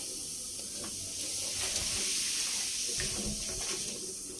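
Hot water runs from a kitchen tap into a sink during cleaning with vinegar, a steady hissing splash that swells slightly midway and continues without talk.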